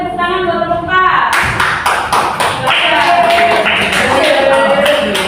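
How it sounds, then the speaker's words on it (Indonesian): Classroom applause for a student group: steady, fairly loud clapping from many hands begins after a second and continues throughout, with speech-like tones over the start. "tepuk tangan buat kelompok 4"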